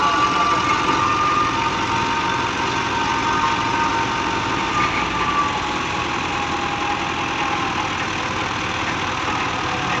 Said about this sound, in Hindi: आ वे लो ट्रैक्टर मोशन ही नहीं पकड़ता